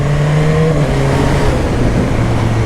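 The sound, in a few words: BMW motorcycle accelerating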